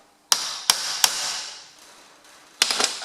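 A hammer strikes a tractor shaft to mark it on an old Ferguson TED20 barn-find tractor: three sharp metallic hits in quick succession, then a pause and a final cluster of blows, each ringing briefly.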